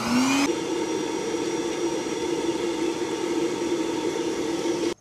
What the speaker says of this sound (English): let's go back to our air blower. And let's blow out the first part of this contraption.